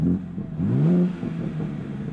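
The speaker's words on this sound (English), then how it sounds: "Give it a little gas." A BMW G80 M3 engine revs close by, rising in pitch over about a second and then settling back to a loud, steady running rumble.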